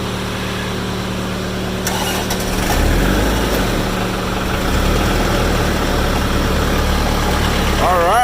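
A red Case DX45 tractor's diesel engine starts up in snowy January weather after its glow plugs warm, then settles into a loud, steady low idle rumble close by.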